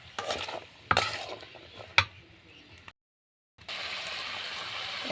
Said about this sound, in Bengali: আলুটা ভুনা করব।